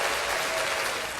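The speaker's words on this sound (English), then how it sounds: "So I'm going to give you this applause and point to you." A brief burst of crowd applause played as a sound effect, dense and even, fairly quiet, lasting about a second.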